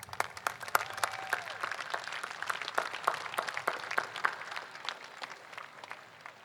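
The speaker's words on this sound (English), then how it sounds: "Big round of applause." Crowd applause at an Armed Forces Day parade, with scattered hand claps building into sustained moderate clapping from spectators, slightly distant.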